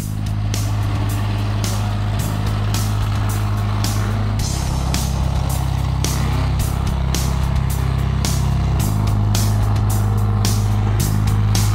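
Gravedigger monster truck engine running on a methanol and alcohol mix, a loud, deep, steady rumbling idle with a heavy low drone that shifts pitch partway through, close by and alone.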